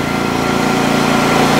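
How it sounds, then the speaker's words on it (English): The engine of a Digger King T30 mini loader in low range revs up close and loud, with a rapid pulsing throb that holds steady through the short burst. "I'm in low, give it a bit of rev."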